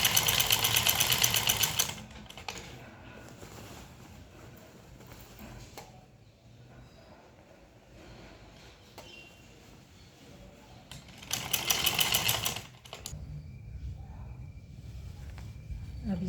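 Two loud bursts of a sewing machine stitching small pleats on a samosa-cut pajama, one at the start and one near the end, with quieter talk and handling noise in between.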